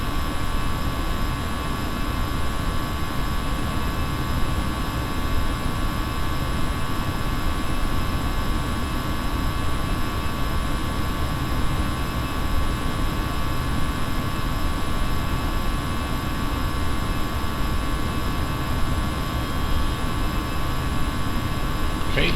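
Continuous steady jet engine roar with a whining tonal hum from an Airbus A320 airliner climbing in X-Plane 10, flying as Lufthansa DLH97 from Munich to Frankfurt, constant and unbroken throughout.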